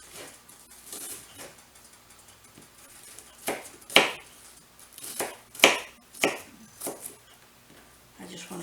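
Vegetables for a beef vegetable soup are cut with a knife on a board in several sharp, scattered chops that grow more frequent toward the end, close by against a quiet kitchen.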